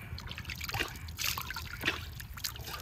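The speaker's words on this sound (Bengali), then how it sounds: "খেয়াল করবেন প্রত্যেকটা অঙ্গই আমি কিন্তু 3 বার করে ধুয়ে নিচ্ছি।" Water trickles and splashes steadily over skin while limbs are washed for a ritual bath, with a few louder splashy surges standing out against the continuous flow.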